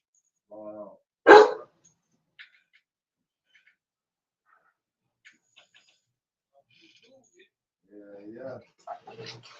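Dogs bark in a single loud burst near the start, with quiet gaps and brief talking before and after.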